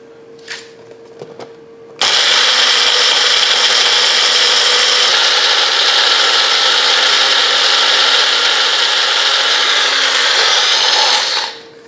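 A kitchen grinder pulverises dried potatoes into instant potato flakes, starting abruptly after a couple of faint clicks and whirring steadily and loudly for about ten seconds before spinning down.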